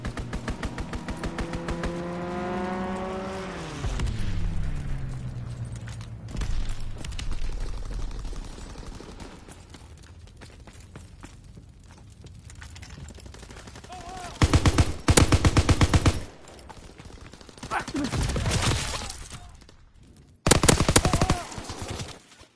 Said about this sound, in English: Enemy strafing run incoming.